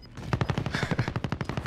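Rapid automatic gunfire from a gun in the video game Warzone, a fast, even burst of about a dozen punchy shots heard up close.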